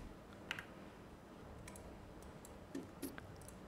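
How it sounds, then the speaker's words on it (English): A few faint, sparse clicks from a computer keyboard as numbers are typed on a PC, quiet and close over a low background hum. "I'm just going to type in the like numbers."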